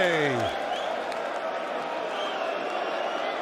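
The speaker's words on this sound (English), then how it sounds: "The crowd celebrates" A darts crowd at the World Series of Darts Finals claps and cheers in a steady, even wash. A voice is heard at the very start.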